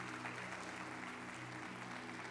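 Applause from a church congregation of parents, a steady broad clapping that holds at the same level without pause, over a faint low hum.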